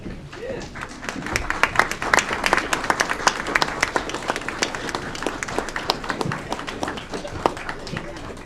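Audience applause at a city council meeting for women staff members during a Women's History Month proclamation, sharp dense clapping from a nearby crowd that holds steady throughout.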